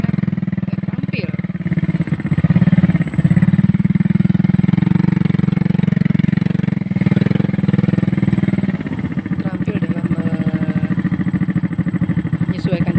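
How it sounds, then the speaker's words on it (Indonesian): Motorcycle engine running on rough, difficult farm and forest terrain near Dumai, a steady loud mid-pitched drone that rises and falls a little, with faint clatter throughout. "Jadi masih ditemukan para pengendara motor di sini"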